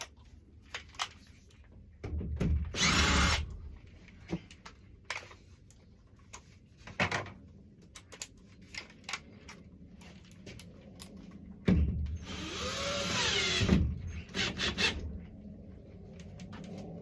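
A power drill drives regular Phillips-head screws while a greenhouse light is installed, two short whirring bursts standing out against quiet handling clicks and rustling nearby, without talk.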